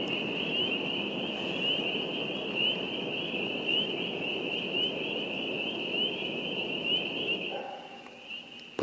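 A dense chorus of spring peepers trills steadily and loudly throughout, with a broad rumble of passing trains underneath that fades out near the end.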